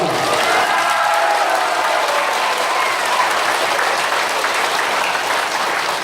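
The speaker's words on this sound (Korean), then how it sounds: "앞에 서 있는 우리에게 도움을 주는 분들한테 뜨거운 박수 한번 부탁드립니다" A hall full of seniors at a Daejeon Dong-gu Senior Citizens' Day event bursts into warm applause, a dense, steady wash of clapping from a large audience that holds at full strength for the whole stretch.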